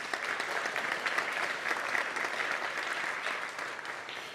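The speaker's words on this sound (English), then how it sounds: "Round of applause for our judges." Sustained audience applause for the judging panel at a Three Minute Thesis national competition: a dense, even wash of many hands clapping, steady and loud throughout.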